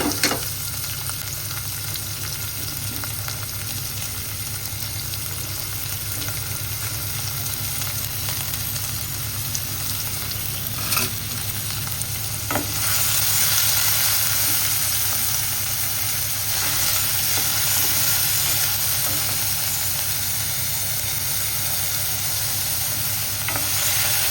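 Onions, tomatoes and green chilies frying in a pan, giving a steady, continuous hiss and sizzle with a low constant hum underneath, no talking.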